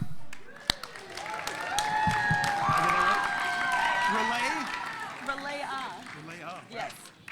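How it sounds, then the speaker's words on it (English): Audience applause and cheering at a grade 11/12 school spoken-word poetry event, sustained clapping with a voice talking over it. "Keep that applause going for your next poet from grade 12"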